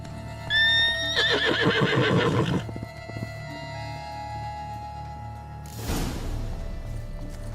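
A horse in The Witcher 3 video game lets out a loud, close whinny with a descending, quavering call, then falls quiet, followed later by a brief rustling burst against a steady ambient background.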